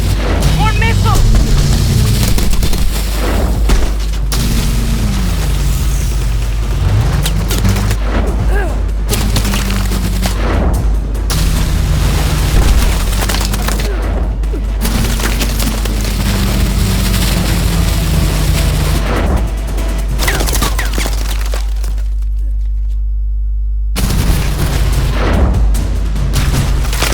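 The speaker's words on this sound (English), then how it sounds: "More missiles!" Missile explosions and gunfire from Call of Duty: Advanced Warfare boom and rumble continuously and loudly, with heavy low thuds under a dense battle din, while voices shout over the action.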